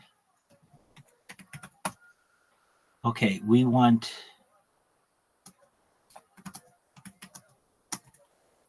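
Computer keyboard clicking in scattered taps and short bursts, close and crisp, with someone briefly speaking in the middle.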